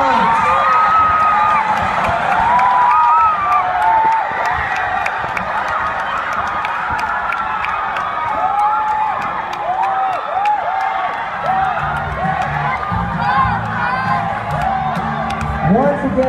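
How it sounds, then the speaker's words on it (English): A large audience claps and cheers at a school chorale event, a dense, sustained wash of applause with scattered whoops and shouts, loud and continuous throughout. "Let us all give a round of applause to"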